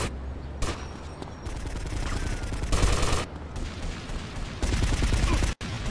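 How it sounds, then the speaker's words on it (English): Bursts of gunfire in Grand Theft Auto: Vice City Stories, several loud clustered volleys of rapid shots separated by short gaps, with game sounds in between. "Yep, I'm gonna shoot you."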